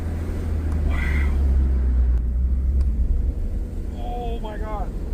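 A Jeep Cherokee XJ engine drones at full throttle uphill with a deep, steady low rumble as if straining under load, with brief voices over it.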